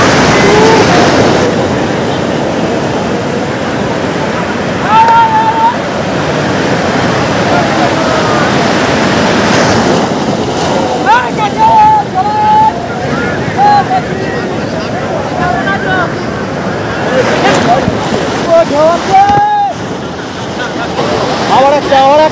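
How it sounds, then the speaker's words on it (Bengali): Big waves breaking on the beach at Puri make a steady, loud surf roar with wind buffeting the microphone, while faint people's voices and whistles carry in the background. "প্রচুর বিশাল বিশাল ঢেউ কিন্তু এখানে আসছে এখন।"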